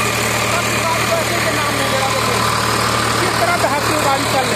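A tractor ploughs a field being prepared for sugarcane planting, its engine a steady, loud, unbroken drone close by, with someone talking over it.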